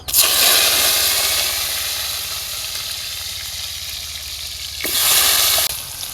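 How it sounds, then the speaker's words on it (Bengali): Potatoes frying in oil in a kadai give a loud, steady sizzle that swells again near the end, with no talking. "এবার আলু ভেজে নিমু কড়াইতে তেল দিয়ে দিলাম এবার আলুগুলো দিয়ে দিলাম"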